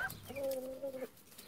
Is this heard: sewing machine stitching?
no